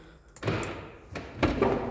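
An Audi A6 door with a faulty, sticking lock is shut after repair, giving a few dull thuds and latch knocks at close range, the strongest near the end.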